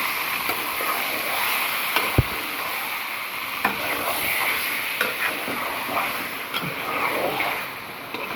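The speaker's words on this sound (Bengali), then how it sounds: "রেখে দিলাম, ভালো করে নেড়ে চেড়ে নেব।" Chicken and puti fish being stirred in a hot pan, with a steady sizzle and intermittent scraping clacks of the spoon against the pan, close and moderately loud.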